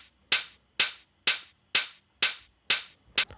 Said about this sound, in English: I added some open hi-hats.